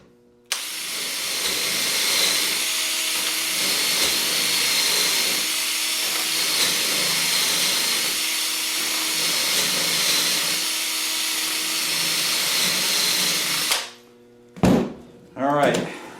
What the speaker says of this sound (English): I'm drilling the last few holes